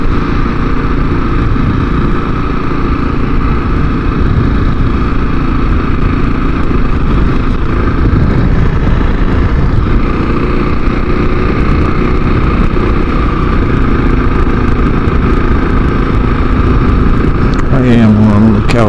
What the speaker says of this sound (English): I am on the Kawasaki KLX 300.